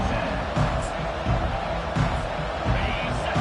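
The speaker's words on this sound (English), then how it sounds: "This crowd bringing an ear-splitting welcome to their visitors." A stadium crowd cheers at a college football game as a steady, loud roar with some bursts, heard under commentary.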